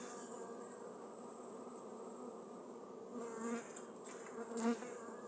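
Carpathian honey bees at an open hive make a constant soft buzzing hum, with a few louder passes as single bees fly close by.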